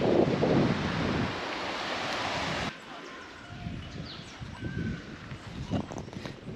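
Surf and gusting wind on Moruga Beach in south Trinidad, loud and rough at first, then quieter with soft waves washing in as the wind noise drops partway through.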